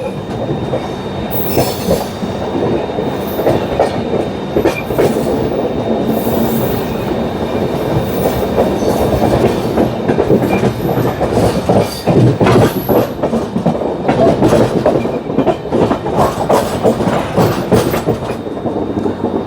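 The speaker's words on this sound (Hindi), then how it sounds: "क्या मस्त ट्रेन घूम रही है, बढ़िया वाला बढ़िया।" Jharkhand Sampark Kranti Express running on the Delhi–Ranchi route, its wheels clattering and rumbling steadily over the rails, loud and continuous from close inside the moving train, with sharp rail clicks and brief metallic squeals.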